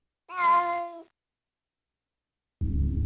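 A cartoonish cat in the Bill Nye: The Science Guy video game gives one clear, loud, drawn-out meow with no talk over it, then a short burst of low rumbling noise follows after a pause.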